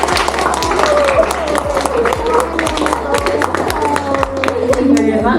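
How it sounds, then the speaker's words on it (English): An audience at a university engineering day event claps for the facilitators, with loud, sharp, close claps mixed with crowd noise, voices and a low steady hum. "Everyone, could you please give a round of applause to our facilitators,"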